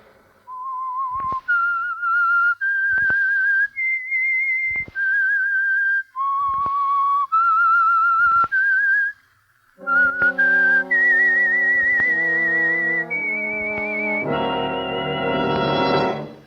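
A clear whistled melody of sustained notes, loud and close, followed by a brighter musical phrase with accompanying instruments, opening a 1946 radio drama.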